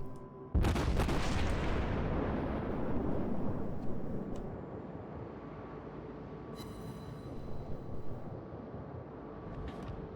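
A cruiser's main guns firing armour-piercing rounds in World of Warships: one sudden heavy boom rolling into a long fading rumble, with faint distant thuds and clicks afterward, no voices.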